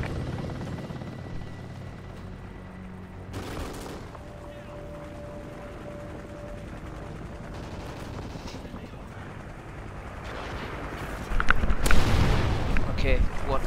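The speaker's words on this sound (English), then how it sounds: "Friendly chopper inbound." Gunfire and rotor noise from a Hind attack helicopter in the video game Call of Duty Ghosts, a steady mechanical drone with bursts of shots that grow louder near the end, under game effects and a brief tone.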